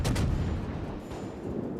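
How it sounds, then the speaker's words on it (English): Gunfire from the Nurnberg cruiser in World of Warships, two rapid heavy booms up front followed by rumbling echoes and a further distant blast, loud and without speech. "I just love these new effects from the gunshots"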